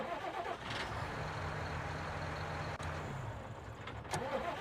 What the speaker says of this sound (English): There's the other engine sound.